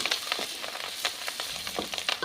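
Cumin, carom seeds, whole coriander and green chillies crackle in two spoons of hot oil, giving a brief, close, continuous sizzle with small popping bursts scattered through it.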